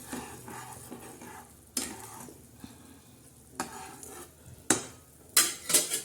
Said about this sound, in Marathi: आता परत एकदा मैत्रिणी असं छान असं हलवून घ्यायचं